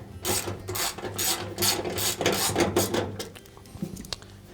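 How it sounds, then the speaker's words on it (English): A nut driver backing out the access panel screws on the bottom of a GE washer, producing repeated close, scraping ratchet-like turns in rhythmic bursts that fade toward the end. "we'll remove the 3 screws on the bottom of the access panel"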